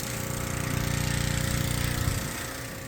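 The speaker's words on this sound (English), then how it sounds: "Step away from the pressure washer here." A pressure washer's small engine runs steadily close by at a remote Alaska lodge, a brief loud buzzing drone with no talk over it.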